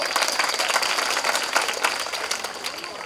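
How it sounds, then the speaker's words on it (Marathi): A crowd claps steadily, dense and fairly loud throughout. "पण आपण टाळ्या वाजवा"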